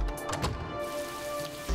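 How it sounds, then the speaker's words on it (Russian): Steady rain falling in the video game Road 96, a constant broadband wash running the full length at moderate level with no talk. "Опять в дождь."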